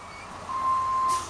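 A tow truck arrives for a broken-down van and gives a single steady reversing beep, held for under a second, over low engine rumble. A short hiss follows.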